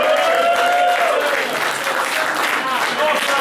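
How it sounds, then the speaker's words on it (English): Audience applause closing a short tech talk on Kubernetes, a dense steady wash of clapping from a room of listeners, holding at constant loudness throughout with a faint tonal hum beneath. "big round of applause."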